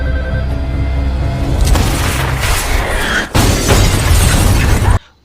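A house blown apart by a rocket launcher in a film scene, heard as a loud booming blast with shattering debris, a brief dip, then a second heavy roar of explosion and crashing before an abrupt cut to silence.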